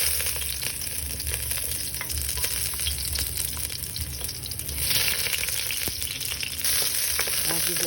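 Garlic sautés in a pan for ginisang patola with mushroom, giving a continuous close sizzle with brief stirring scrapes and surges in the crackle, no voices.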